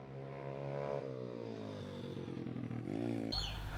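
A motorcycle passes outside a veranda in Australia, its engine note rising as it nears and then shifting in pitch as it moves past, fairly loud with no talk over it.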